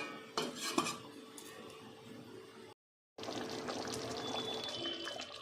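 A lid is set on a cooking pot of a vegetarian dish with a short metallic clank near the start, followed by a soft, steady simmering hiss after a brief silence.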